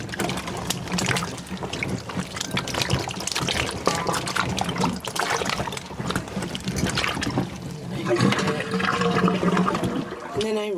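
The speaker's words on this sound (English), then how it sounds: "I take just a little bit of dish soap, and I just rub my hands through the water" Hands swish and churn through a basin of water with a little dish soap, making continuous sloshing and splashing that rises and falls in uneven bursts, fairly close.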